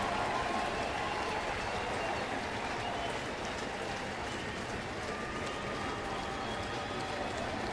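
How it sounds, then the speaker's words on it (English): A stadium crowd of Cardinals baseball fans cheers and applauds steadily for the whole stretch, a dense, even roar heard from within the stands, with no break. "Cardinal fans have been wanting to cheer all homestand."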